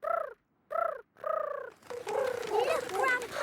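A cartoon character's voice imitates a pigeon with three throaty, warbling coos separated by short pauses, followed by chattering voices and bird-like calls in a bird-spotting scene.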